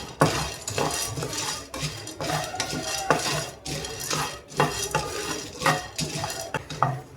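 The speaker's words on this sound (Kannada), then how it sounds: "ಲೋ ಫ್ಲೇಮಲ್ಲಿ ಒಂದು 20 ಸೆಕೆಂಡಷ್ಟು ನೀವು ಇದನ್ನು ಕೈ ಆಡಿಸ್ಕೊಂಡ್ರೆ ಸಾಕು." Peanuts are stirred in a pan over low flame, rattling and scraping in quick repeated strokes with a loud, close, rhythmic clatter of utensil on metal and little sizzle.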